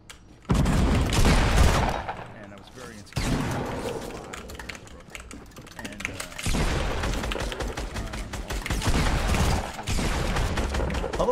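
Bursts of gunfire in the Fortnite video game crackle in loud, rapid volleys, each lasting a few seconds and separated by brief pauses, with dense overlapping shots throughout.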